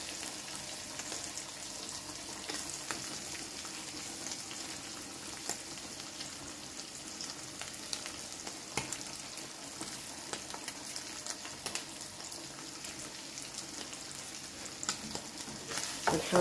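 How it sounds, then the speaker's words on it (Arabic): Onion frying in a pan with a constant bright sizzle and occasional scrapes of stirring, close and continuous for the whole stretch, with no talking. "نحاول نعصو مزيان مع هاد البصلة"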